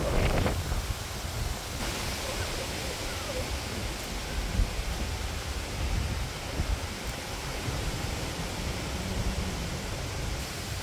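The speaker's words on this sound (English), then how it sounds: "The, uh, the wind is so strong right now" Strong wind roars continuously into the microphone on a river under storm clouds, a dense broadband rush with gusty swells and no voices.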